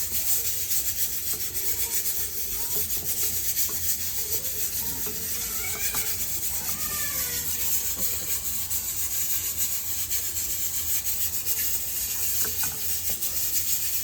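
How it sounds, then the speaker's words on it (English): Dal makhni mixture with onions is stirred in a pot, producing a continuous rubbing, scraping drag of a spoon against the pot under a steady background hiss. "let's let that mix well first with the onions"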